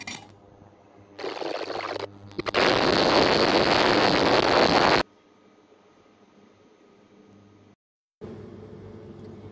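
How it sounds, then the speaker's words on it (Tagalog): Water in a pot comes to a boil with a loud, rushing bubbling hiss that swells for a few seconds, then drops back to a quieter simmer. "So, kumukulo na po yung ating tubig."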